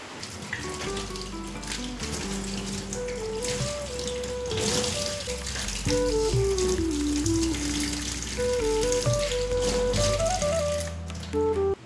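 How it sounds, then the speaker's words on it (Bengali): Heavy rain falls steadily outside a home, a continuous wash of noise running under louder background music for the whole stretch. "সমানে বৃষ্টি হয়ে যাচ্ছে।"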